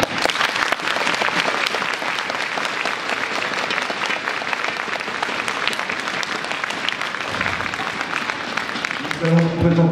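Audience at a Vietnamese kung fu martial arts night in Versailles applauds performers with loud sustained clapping, a voice briefly heard as the applause ends.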